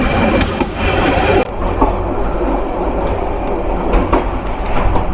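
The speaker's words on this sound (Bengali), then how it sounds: "আন্তনগর কিশোরগঞ্জ এক্সপ্রেস থ্রুপাস করে যাচ্ছে তেজগাঁও রেলওয়ে স্টেশন।" The Kishoreganj Express intercity train passing through Tejgaon railway station in Dhaka without stopping, with a loud, close, continuous rumble and rhythmic wheel clatter throughout and no voices.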